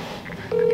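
A cell phone dialing to call a boyfriend, with a steady electronic tone starting halfway through over faint background noise.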